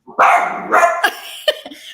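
A dog barks loudly and close by, a couple of full barks followed by shorter yips trailing off, with no talk over them.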